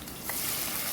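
Green chillies sizzle as they drop into hot oil for tempering a pointed gourd (parwal) sabji, a close, steady frying hiss with a brief louder burst at the very end; no talking.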